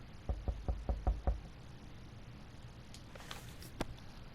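A door being knocked in the game 60 Seconds! Reatomized: a rapid run of five or six firm raps at the start, then quiet room tone with a faint shuffle and a single soft thud near the end.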